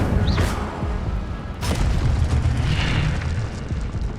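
The Incendio fire spell in Hogwarts Legacy goes off as a loud, booming fiery burst, followed by a sustained roaring rush of flame, with a second sharp surge partway through.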